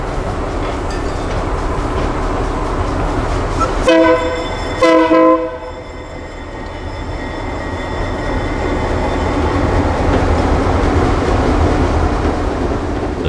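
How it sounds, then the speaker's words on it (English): A train rolls slowly, about 10 mph, over a concrete bridge on a quiet Florida coast line, under a steady close rumble and clatter, with two short horn blasts near the start and no voices. "The train appears and keeps on rolling at 10 miles an hour"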